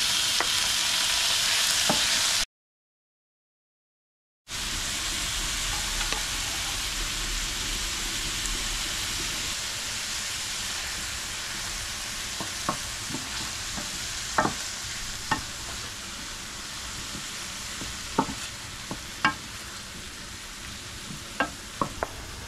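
Garlic and tomato frying in a pan give a steady hiss and sizzle, broken by a brief silent gap, followed by light scattered stirring clicks.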